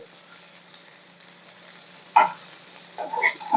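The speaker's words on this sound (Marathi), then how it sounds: "इथे आपले मळे फ्राय झालेले आहेत" River fish (malle) frying in a pan until crisp and golden: a steady, fairly soft sizzling hiss with a couple of sharp pops and clicks near the end, and no voices.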